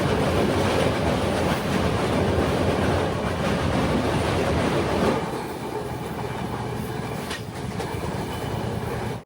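The Rapti Sagar Express rumbles and clatters heavily as it runs toward Gorakhpur station, a loud continuous rolling roar that eases to a slightly quieter steady rattle about halfway through.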